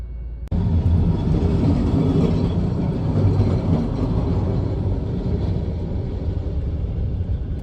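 A tram runs along a road in India, giving a loud, steady rumble of rail wheels and car body that starts suddenly and continues close by throughout.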